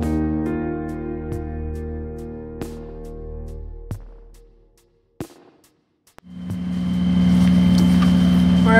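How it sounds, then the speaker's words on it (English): Sailboat engine running while motor sailing down the North Channel off Scotland: a steady tonal engine drone that fades out, a few clunks and knocks in the gap, then a louder, rougher engine hum returns and holds. "We're motor sailing, as you can hear."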